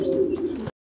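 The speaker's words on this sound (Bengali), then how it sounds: "আরো এক জোড়া কবুতর, আর আলহামদুলিল্লাহ এটাও একটা ফ্লেজার জোড়া।" A pair of fancy pigeons in a loft gives a single short, low, throaty coo, close and fairly loud, then it stops abruptly.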